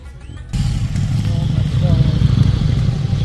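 Motorcycle engines rumble steadily nearby, a low continuous drone with a faint clatter, starting abruptly after a brief quiet moment.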